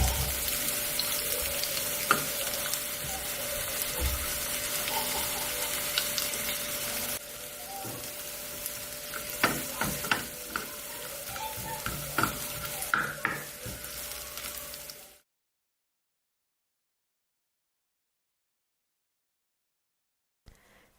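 Dried red chillies, shallots and curry leaves sizzle and crackle in hot oil for a Kerala beetroot pachadi tempering, with stirring clinks, steady for about fifteen seconds before cutting to silence.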